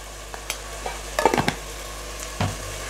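Soft scraping and stirring of chili powder in a pan with faint sizzling underneath, a few clinks of a utensil against metal, close and fairly quiet.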